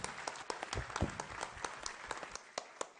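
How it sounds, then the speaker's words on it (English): Scattered clapping from an audience in a hall at an anniversary event, a light patter of individual hands that sounds fairly distant and quiet. "Let us give a very, very big round of applause for all the members of Hyderabad upcoming and existing chapter."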